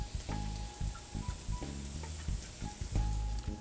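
Mushrooms frying in olive oil in a pan, a close, steady crackling sizzle punctuated by several short scraping stirs, no talking.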